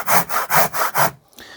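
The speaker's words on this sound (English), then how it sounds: "then I'll slowly and carefully start sawing" Four rhythmic rasping strokes of a hand mitre saw in a jig cutting through wood, close up and evenly paced, then the sawing stops.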